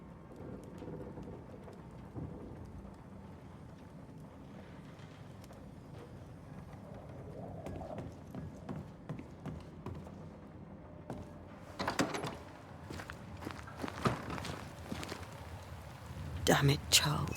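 A sea storm in the video game Banishers: Ghosts of New Eden, with steady rain hiss under a low rumble and bursts of louder crackling thunder late on, quiet overall with some game voice present.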